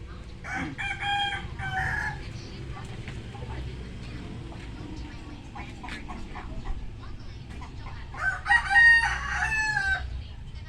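Chickens cluck throughout as a rooster crows loudly twice, near the start and again near the end, with faint talk in the background.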